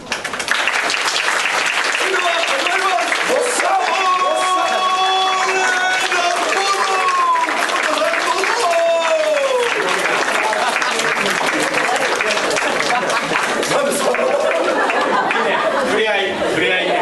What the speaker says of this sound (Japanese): 拍手でお呼びください。